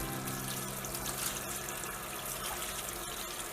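Cold tap water runs steadily into a sink over a pot of food that has been boiling for hours, a constant close rush with faint clinks beneath.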